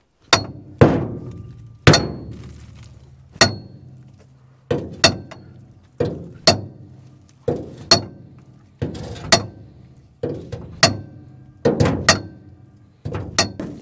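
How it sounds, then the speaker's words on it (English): A series of about a dozen hard metallic blows from the side of a hammer on seized metal of an old dragline crane, spaced roughly a second apart, each ringing briefly before the next strike. "That's why I'm hitting it with the side of the hammer."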